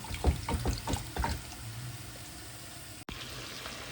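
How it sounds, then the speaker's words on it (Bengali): Fish boiling in a pot of water with salt and turmeric, a few soft bubbling pops early on, then a faint, quiet simmer. "মাছটা দেখেন বলক উঠে গেছে, হলুদ লবণ দিয়েছি, সিদ্ধ হয়ে গেছে প্রায়।"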